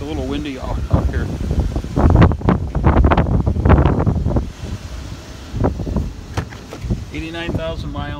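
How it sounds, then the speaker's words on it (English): Wind blowing hard into a microphone outdoors beside a 2014 Jeep Wrangler, loud gusty buffeting rising and falling in bursts while someone talks over it. "It's a little windy out here."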